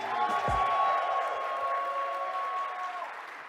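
Audience applause fills a PAX East 2017 panel room, a steady, dense wash of clapping from a large crowd that holds evenly for a few seconds before thinning out.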